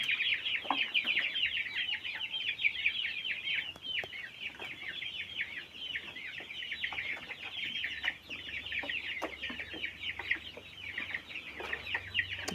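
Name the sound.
chicks and chickens clucking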